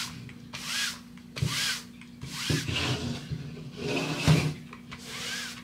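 Repeated scraping strokes of an edger tool smoothing black paint across a canvas, several rubbing passes in a steady rhythm, close and moderately loud with a low background hum.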